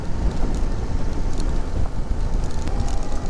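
Strong gusting wind buffets the microphone on an open road, a loud, steady broadband roar with uneven surges and no clear breaks throughout.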